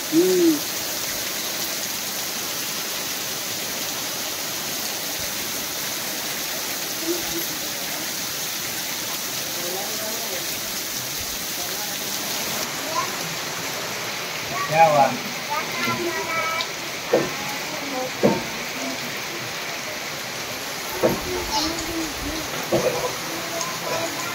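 First monsoon rain falls in Konkan with a steady, close hiss throughout, joined by occasional hoot-like bird calls and faint voices toward the end.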